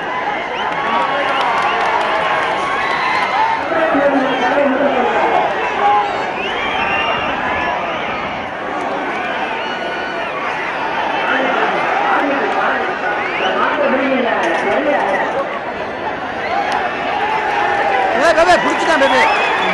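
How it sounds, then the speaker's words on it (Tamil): A dense crowd roars and cheers continuously at a manju virattu bull-taming event during a Siravayal temple festival, the loud, sustained clamour of many voices rising and falling without pause. "அவர்களை அங்கு கூடியிருந்த பொதுமக்கள் ஆரவாரம் செய்து உற்சாகப்படுத்தினர்."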